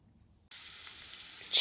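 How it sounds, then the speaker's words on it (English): Morning biscuits sizzle in cast iron pans inside a hot tent at a winter snow campsite: after a moment of silence the frying hiss starts suddenly, stays loud and steady, and swells near the end. "Oh, if you could only smell that sizzle."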